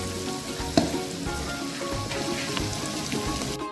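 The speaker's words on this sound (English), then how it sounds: "the chilies will get fried nicely along with the onion" Onions and chilies fry in a pan, a steady hissing sizzle with crackling pops and one sharp clink near the start, continuous and close with no talking.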